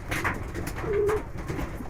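A Giribaz pigeon coos softly once in the middle, a low murmuring call close by amid faint room noise.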